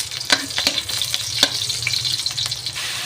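Onion dropped into a pan of garlic frying in oil for Filipino pakbet, crackling in a loud, busy sizzle close up, with the rapid scrape and clatter of stirring running across it.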